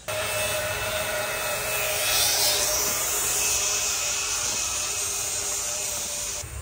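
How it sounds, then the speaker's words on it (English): A needle gun and grinder work on a rusty trailer outdoors, giving a loud, continuous harsh rasping and whirring that swells slightly midway and holds steady throughout. "Old man's up there doing a bit of the grinding. I've got the needle gun because I've lost my grinder."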